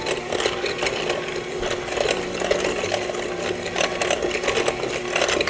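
An electric mixer steadily whirs as it beats red velvet sugar cookie dough, a continuous buzzing hum with faint rattling against the bowl, running on without talk.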